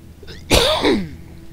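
A single sharp cough, close and loud, breaking a quiet background hum from the video game Dungeon Siege 2.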